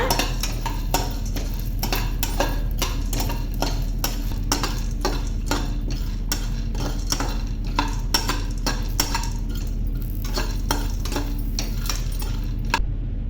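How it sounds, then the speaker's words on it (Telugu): Roasted gram dal is stirred in a pan over a slow flame, giving a steady stream of close clicking and scraping taps. A low hum runs underneath, with no talk. "ఒక కప్పు అయితే పొట్నాల పప్పు వేసుకోవాలి ఇవి కూడా వేయించాలండి మంట స్లో ఫ్లేమ్లో పెట్టుకొని వేయించుకోండి"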